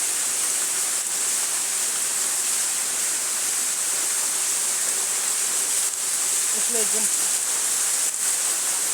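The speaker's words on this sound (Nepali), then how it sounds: "सिक्किम नगरपालिका वडा नम्बर 12 को एक मनमोहक झरना" A steady, hissing roar of a waterfall in Sikkim continues without pause, with a brief faint voice partway through.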